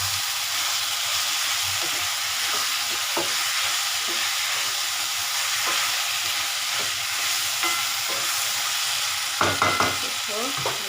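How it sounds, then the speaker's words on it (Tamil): Vegetables sautéing in hot oil in a pan give a steady, close sizzle, with stirring scrapes and a few louder clinks of the spoon near the end. "நல்லா எண்ணெயில் வதக்கணும்."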